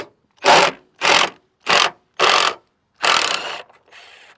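Phillips screwdriver backing out Loctite-coated door latch screws on a GR86/BRZ, five loud ratcheting bursts in a steady rhythm with short pauses, then a fainter sixth, close up with no talk.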